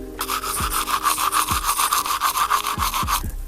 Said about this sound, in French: Hop, je prends ma brosse à dents de couleur verte. Tac, je mouille un peu. Hop, et on se brosse les dents